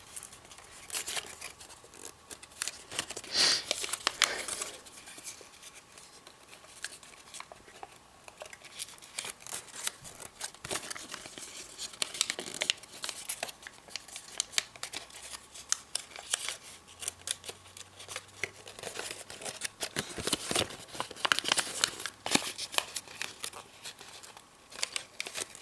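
Paper rustles and crinkles softly throughout as the corners of an origami pyramid tessellation are pushed together and folded in, with scattered light taps and creases close by.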